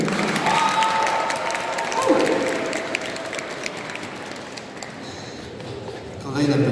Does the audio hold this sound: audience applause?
yes